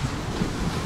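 Sea waves break near the shore at Nha Trang, Vietnam, a steady close wash of surf with some wind, heard alone.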